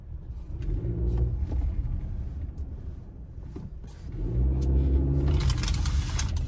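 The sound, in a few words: Honda Civic RS Turbo driving on full right turn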